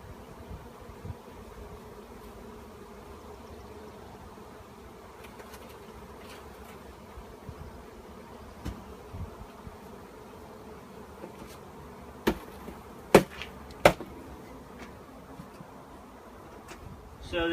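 Many bees buzz in a steady, soft drone close by, with a few sharp clicks and knocks near the end.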